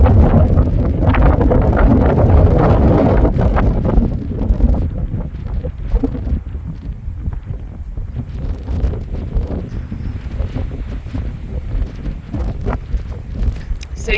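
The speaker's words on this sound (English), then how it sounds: "The wind's blowing me around a little bit." Wind blowing outdoors at the east end of Copco, buffeting the microphone as a heavy, continuous low rumble that is strongest at the start and keeps gusting unevenly to the end.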